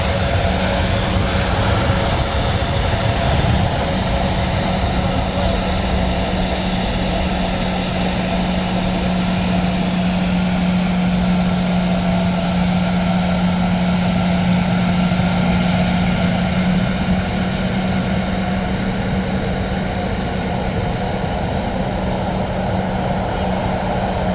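A Ryanair jet airliner rolls at London Luton Airport, a steady loud engine roar with a constant droning hum that holds for the whole stretch, no voices over it.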